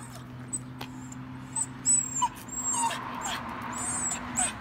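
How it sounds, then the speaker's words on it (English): A dog whimpers and yips in short, high whines scattered through the clip against a quiet indoor hum, with no one talking. "You're a good doggy."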